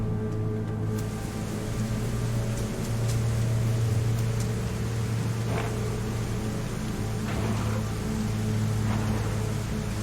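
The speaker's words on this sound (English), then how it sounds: "it's raining hard and I don't have a lot of gear to keep me dry" Heavy rain pouring in a survival video game set on Deer Isle, a steady dense broadband wash that stays loud and constant throughout with a low droning hum beneath and no talking.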